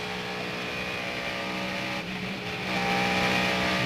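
NASCAR stock car engines at the 1998 Pepsi 400 drone steadily at high revs, briefly dipping as the throttle lifts, then surging louder as the car accelerates hard near the end.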